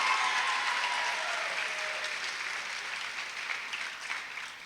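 Steady applause for a teacher fills the hall at an eighth grade graduation, a thick continuous patter of many hands gradually thinning over a few seconds.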